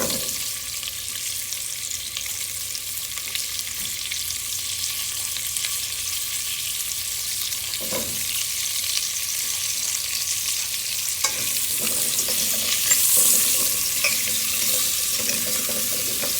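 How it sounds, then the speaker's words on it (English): Chopped butternut squash frying in a pot with sage, bay leaf, thyme and orange peel for a vegan soup, giving a steady close sizzle and hiss with occasional scraping stirs and no talking. "And then I'm going to add my chopped butternut squash."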